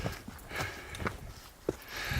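A horse walking on a mountain hiking trail near Mount Rainier, its hooves giving a few irregular, fairly faint clops over quiet outdoor ambience.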